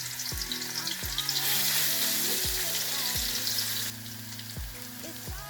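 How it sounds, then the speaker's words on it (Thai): Garlic frying in hot oil in a Thai kitchen, a loud close steady sizzle that swells partway through and then eases, with rhythmic stirring scrapes and a background music-like tonal pattern beneath. "ใส่น้ำมัน กระเทียมเจียวครับ"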